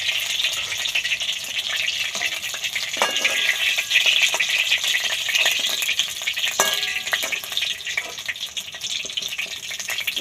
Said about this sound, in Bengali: বাকি চিকেনগুলো আমি এইভাবে ভেজে নেব